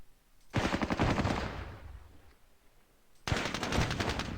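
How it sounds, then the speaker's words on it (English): Rapid automatic gunfire in the Vietnam-era war game Squad Battles: Tour of Duty comes in two loud, crackling bursts, the first lasting about a second and fading, the second starting sharply a couple of seconds later. "Oh, everybody's firing at these guys now."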